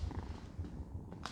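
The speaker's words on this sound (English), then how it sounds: "He's purring." A cat purring up close, a soft low rhythmic rumble pulsing several times a second throughout, fairly quiet, with a faint brief noise near the end.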